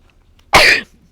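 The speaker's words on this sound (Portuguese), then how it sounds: "Mas entrou assim, eu tive que dar uma espirradinha." A single sharp, explosive sneeze bursts out close by, loud and brief, with quiet before and after.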